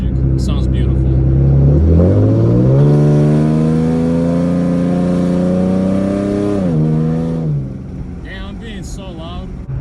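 A V6 Ford Mustang with a loud aftermarket exhaust revs hard, engine pitch climbing steeply then holding near a 5,500 rpm redline before dropping away, close and very loud.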